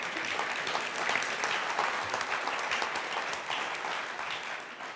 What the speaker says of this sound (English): So please give my panelists a very warm round of applause.